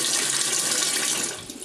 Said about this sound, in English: if I push this shower button, you see this little nozzle